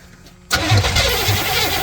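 A custom Ford F250 4x4 engine cranks and catches abruptly, then runs loud and rough at a steady idle up close.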